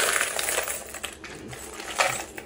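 Coins clattering and spilling out of a pisonet coin-slot box, a busy run of metallic jingles and small impacts over 2.5 seconds, with a few louder bursts near the middle and end.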